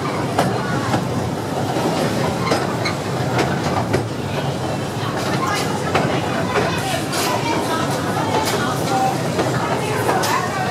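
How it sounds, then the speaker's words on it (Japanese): A Kurobe Gorge Railway trolley train departing Kanetsuri Station rumbles and rattles continuously at close range, wheels clacking over the track with occasional metallic squeals throughout. "列車はポイント切り替えのため一旦後ろに下がってから発車いたします。"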